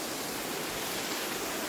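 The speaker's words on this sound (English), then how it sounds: "There's the waterfall." Waterfall at Springbrook in the mountains, a steady broadband rush of falling water, constant and fairly close.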